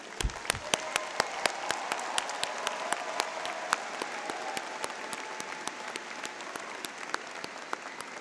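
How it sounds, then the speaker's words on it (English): A large audience claps for graduates at a university engineering spring commencement ceremony, steady sustained applause filling the hall with scattered sharp individual claps. "please join me in a warm round of applause for our graduates."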